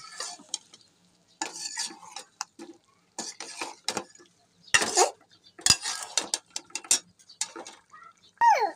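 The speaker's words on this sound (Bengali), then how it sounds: "কষানো মশলাটাকে বেগুনের সাথে মাখিয়ে নেব" Spice paste is stirred into eggplant in a cooking pot: intermittent scraping and clinking strokes of a utensil against the pot, in short irregular bursts with a light sizzle and quiet pauses between them.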